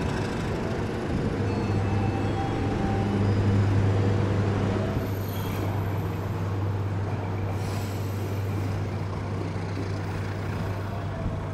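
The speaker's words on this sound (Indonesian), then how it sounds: "Pukul 12 lebih 32 menit kereta api Kertanegara berangkat lagi dari stasiun Madiun" Kertanegara passenger train pulling away from Madiun station, a loud steady rumble of rolling wagons with a sustained low hum and brief wheel squeals, no talking.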